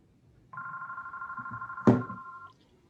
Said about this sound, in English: That's my phone and I can't turn it off right now.